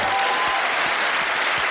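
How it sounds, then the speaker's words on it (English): A studio audience at a game show breaks into dense, loud applause, continuous clapping filling the room throughout. "Big cheer, please."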